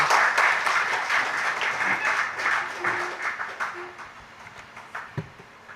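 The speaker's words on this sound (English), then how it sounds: "I think we should give a round of applause again for achievements" An audience at a 40th anniversary ceremony and seminar applauds, moderately loud clapping that fades gradually, with a few scattered claps and faint voices near the end.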